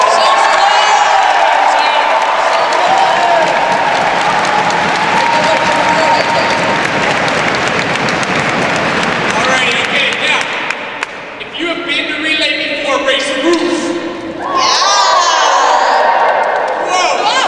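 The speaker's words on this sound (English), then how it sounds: "let's give a big round of applause" A large crowd at a Relay For Life night event claps and cheers loudly, with whoops rising over sustained applause that dips briefly before surging again near the end.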